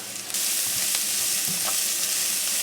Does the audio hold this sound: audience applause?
no